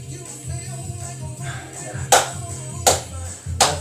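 Hands clap along to a song during a gym workout: three sharp, evenly spaced claps near the end, standing out over faint background music.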